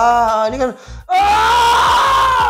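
An actor demonstrates a scream during a cast interview for an Indonesian horror film: a brief spoken phrase, a short pause, then a loud sustained shriek filling the rest of the clip.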